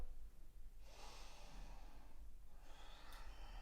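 Two slow, soft breaths, each a long airy inhale or exhale, come from a person holding a yoga lunge pose. They sound faint and close against quiet room hiss.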